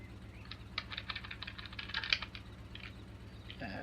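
Computer keyboard typing in quick, uneven bursts of close clicks, fairly quiet over a steady low hum, with no talking.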